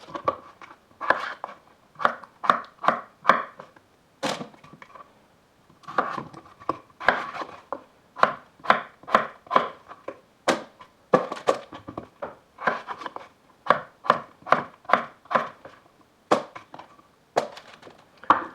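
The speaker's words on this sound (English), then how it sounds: "We're just gonna cut the potatoes in cubes." A knife chops potatoes into cubes on a cutting board, with crisp, irregular bursts of close, dry taps coming in quick clusters separated by short pauses, heard alone without talk.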